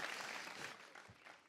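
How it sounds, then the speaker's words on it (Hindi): Studio audience applause on a Hindi comedy show, a brief, faint burst of clapping heard on its own. "जोरदार तालियां"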